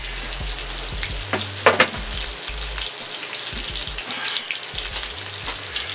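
Country style ribs browning in a hot pan give a steady, close frying sizzle throughout, with a few brief clatters and bumps near the start and low thumps scattered along the way.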